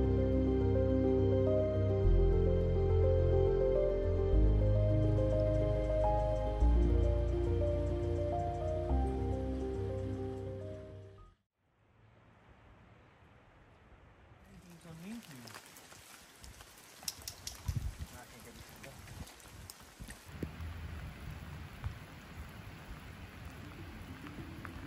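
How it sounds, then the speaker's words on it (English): Rain falls at the Mattole River campground in the wet Redwood Coast country, a soft steady patter heard after a stretch of music ends and a brief silence, growing slightly denser with a few close drops. "the rain never seems to stop for too long"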